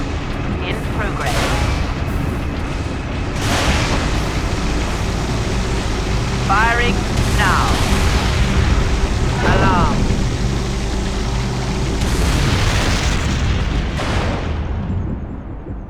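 Heavy cannon blasts echo in a Warhammer 40k: Space Marine battle scene, a series of deep booms and rumbling detonations over a continuous low roar, with voices speaking in between.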